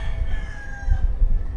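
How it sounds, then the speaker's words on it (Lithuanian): A rooster crows once in a long drawn-out call from a street, moderately near, over low rumbling background street noise. "O gaidžių pilnos gatvės."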